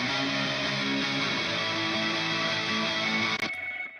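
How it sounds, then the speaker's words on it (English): Thick, dense wall of distorted electric guitars playing chords in a full mix, cutting off abruptly near the end. "So the guitars now sound like this."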